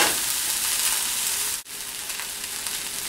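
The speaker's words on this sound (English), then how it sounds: "Just stir everything for 3 minutes." Mixed-vegetable fried rice sizzles in a frying pan, giving a dense, continuous hiss with faint stirring, close and steady, with one very brief dropout midway.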